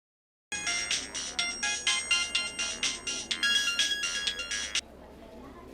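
A phone ringtone plays a bright, repeating electronic melody in rapid pulses for several seconds, then cuts off abruptly, leaving quiet background hum.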